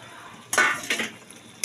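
Water rinsing and clattering over a metal plate in a home kitchen while a fish-head and Malabar spinach dish cooks, with a few short splashing bursts separated by quiet gaps.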